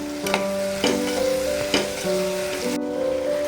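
Tomatoes and rice being sautéed in a pan for matar pulao, with a spoon scraping and stirring in several strokes over a soft sizzle, close, and a steady tonal hum underneath.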